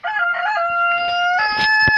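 A rooster crows nearby in one drawn-out call that rises at the end, set against faint farmyard rustling.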